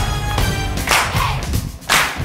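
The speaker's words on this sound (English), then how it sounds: "Now, big claps." Big hand claps during a dance routine, with three sharp claps spaced about a second apart over music.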